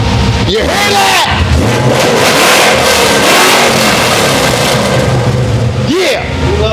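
A Coyote-swapped 1970 Mustang engine revs loudly and close, rising and falling through several throttle blips with sharp pitch sweeps at the start and near the end, while people talk and whoop over it.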